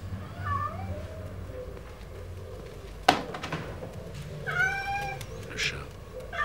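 A cat meows several times in drawn-out, wavering cries, with a sharp knock partway through and low voices murmuring in the background.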